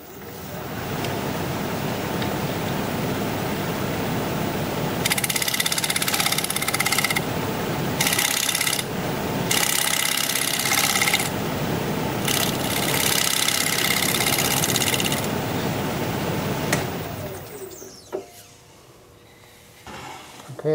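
A wood lathe spins a rectangular winged wooden bowl blank as a tool shapes its outside, giving a steady, loud broadband whir with bursts of harsher cutting noise before the machine winds down near the end.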